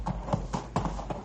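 Horse hooves clip-clop steadily over a loose, rocky canyon trail in a radio drama, a close, rhythmic run of hard hoof strikes with no voices.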